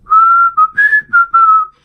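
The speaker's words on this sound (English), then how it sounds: "I had time to put my lips together and try to whistle." Lip whistling by a person, a short tuneful phrase of five clear sustained notes with small pitch steps and brief gaps, loud and close with nothing else behind it.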